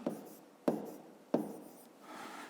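Pen or pencil writing a number by hand on paper during a fifth-grade maths exercise, three short scratchy strokes close by, each with a sharp onset, followed by a softer rubbing stroke.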